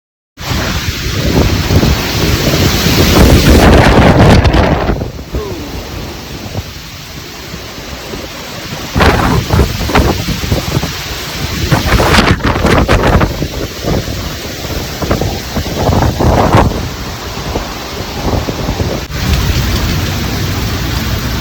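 Hurricane Ida roars through New Orleans at the Orleans-Jefferson line, with loud, sustained wind and driving rain that surges in heavy gusts, peaking early and then pounding steadily, near and constant throughout with no voices.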